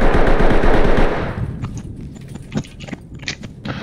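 Rapid automatic gunfire in a video game firefight, a loud close burst for about a second, then scattered distant shots and faint footsteps.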